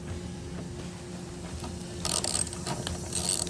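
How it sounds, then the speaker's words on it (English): Socket wrench loosening a lawn mower spark plug: a quiet run of rapid ratchet clicks, growing louder and denser in the final second and a half, with no one speaking. "We'll use a socket wrench to loosen the spark plug."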